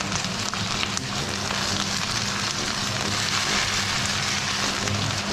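Pan-fried potatoes sizzle loudly and continuously in hot oil, a dense crackling hiss like rain with occasional faint scrapes from stirring, close and without speech.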